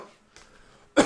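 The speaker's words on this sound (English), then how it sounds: "Coughing again." A single loud, close cough bursts out near the end after a stretch of quiet room tone with faint murmuring.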